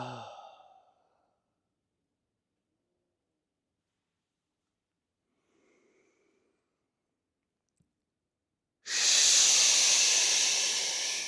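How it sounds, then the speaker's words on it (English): A long breath pushed out through the mouth as a qigong cleansing exhale, a loud airy hiss arriving suddenly after near silence and holding steady for a couple of seconds, close and alone. "We're breathing out through our mouth, so it's a cleansing breath."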